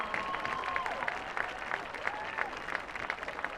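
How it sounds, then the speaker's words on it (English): Steady clapping from a crowd at a high school football game for the homecoming queen, sustained and even throughout, with a faint tone drifting in the background. "an all-around big round of applause"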